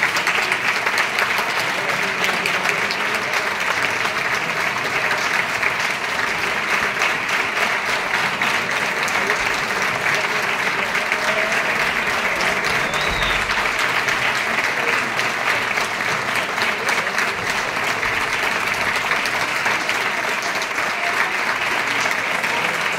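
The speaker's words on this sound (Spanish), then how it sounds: "más el aplauso, que ya llega" An audience at a provincial nativity-scene contest awards ceremony in Segovia gives sustained, dense applause, loud and even throughout, a continuous crackle of many hands that never lets up.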